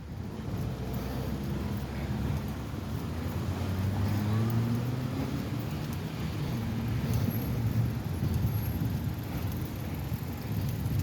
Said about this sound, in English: It is quite a bit of cars.